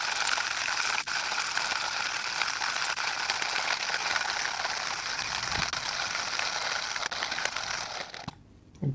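A Hario Skerton hand grinder grinds 20 grams of coffee beans with a continuous, close crunching and rasping burr sound, then falls quiet near the end.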